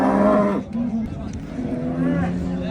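Cows at a Turkish livestock market mooing loudly and close, one long low moo followed by another drawn-out call, with crowd noise and murmuring voices in the background.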